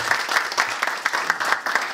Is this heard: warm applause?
yes